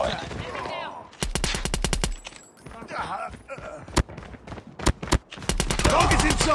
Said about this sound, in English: Sentry gun deployed.